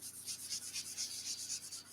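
A whiteboard is grabbed and handled, making soft, quick, repeated rubbing and scraping sounds, faint and close, with no talking.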